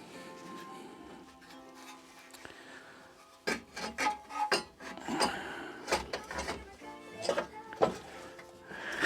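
A hand crank turns over a lawnmower engine, giving irregular bursts of rasping, grinding mechanical churning after a few seconds of quieter shuffling, fairly close and uneven in rhythm, with no talking.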